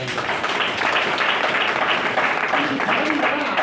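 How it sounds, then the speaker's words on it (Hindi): Sustained, dense applause from a crowd at a DXN gathering, loud and steady throughout, with voices mixed in underneath. "जोरदार ताली"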